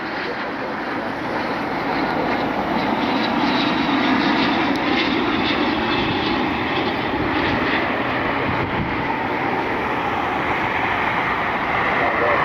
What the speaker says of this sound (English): We got a Hawker inbound from Teterboro